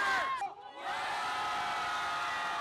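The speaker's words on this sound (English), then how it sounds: "crowds of people and the media gathered at the Wednesday demonstration" A crowd shouts and cheers at the Wednesday demonstration in Korea, a protest over wartime sexual slavery. Loud, overlapping voices rise in a chant-like cry, break briefly, then settle into a steady roar of many people.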